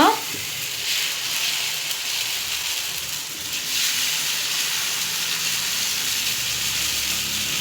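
Dosa batter sizzles on a hot pan with little oil, a steady close frying hiss and crackle that holds throughout, with brief swells of louder sizzling.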